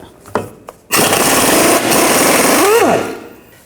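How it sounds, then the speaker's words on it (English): Power tool spinning off the lower engine mount nut with an 18mm socket on a passenger side mount of a 2009-17 Chevy Traverse: two short bursts, then a loud sustained whir near the mic, slightly pitching up and down before dying away. "Now take the lower nut out, use a 18mm socket."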